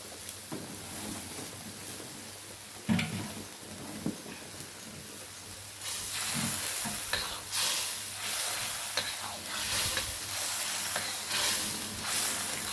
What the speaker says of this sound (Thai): ก็ผัดต่อไปให้หอม